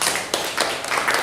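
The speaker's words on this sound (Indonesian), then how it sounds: "Ya, tepukan buat Satya." Classroom applause for a student, a short burst of scattered clapping from a small group of pupils, uneven and fairly close, lasting about a second.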